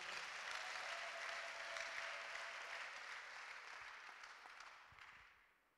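A church congregation applauds steadily, a dense wash of clapping that holds for several seconds and then fades out toward the end.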